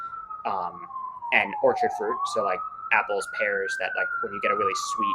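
A siren wails continuously outside, rising and falling in a slow sweeping tone at moderate volume beneath a person talking steadily over it.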